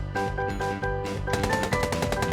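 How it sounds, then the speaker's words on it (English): Rapid gunfire bursts in the video game SCP - Doki Doki Anomaly, loud and close, layered over sustained tonal game music throughout the short stretch. "Gunfire erupts from behind SCP-682."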